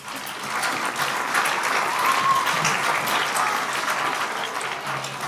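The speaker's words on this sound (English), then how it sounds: "Give a round of applause for the Oz woman." A packed audience claps for the Oz woman at a Wizard of Oz theatre curtain call, a steady, full roar of many hands that builds briefly and holds evenly for around five seconds.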